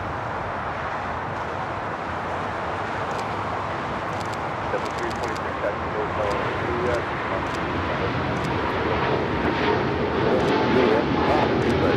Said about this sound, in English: Viva Air Flight 5 taking off to Taipei on the 777-300ER.